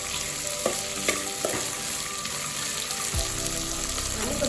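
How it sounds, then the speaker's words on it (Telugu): Mixed vegetables frying in a pan, with a close, busy sizzle broken by a few sharp spoon knocks and scraping stirs against the metal; no one talks. "ఇవన్నీ కొద్దిగా బాగా ఫ్రై అవ్వాలి ఫ్రెండ్స్"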